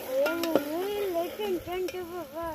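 Tomato and spring onion greens roast in a pan over a village cooking fire, a light sizzle and scraping stir close by, partly masked by a loud tonal whine and a voice in the background.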